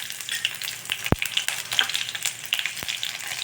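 Green chilies frying in hot oil in a pan give a steady, close sizzle with crackling pops, broken by one or two sharp clinks and stirring sounds.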